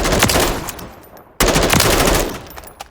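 Rapid gunfire from an M16A3 rifle in Call of Duty: Modern Warfare III, loud close bursts with a brief gap before a second burst.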